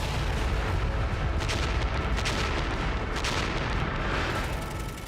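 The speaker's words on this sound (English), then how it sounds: "the German guns open fire. It's the largest barrage yet seen on the Western Front." A German artillery barrage from the First World War, heard as a dense, continuous rumble of heavy gunfire with overlapping booms that stays loud and unbroken throughout.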